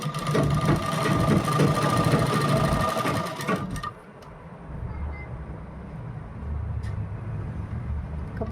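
A sewing machine stitches through a double layer of kurti fabric, a loud, steady mechanical whirr for several seconds before it stops, leaving quiet room noise.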